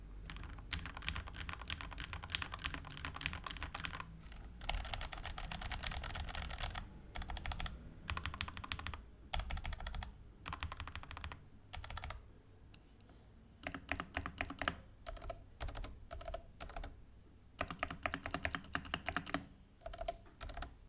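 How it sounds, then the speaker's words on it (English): Typing on a split-layout computer keyboard with keys that bottom out fully, a dense, steady patter of close clicks in bursts separated by short pauses, with no talking. "Let's do a side-by-side sound test and typing test."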